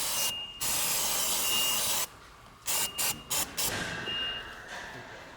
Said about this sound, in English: we can take some brake clean and just spray around the area to make sure we get all the grease and grime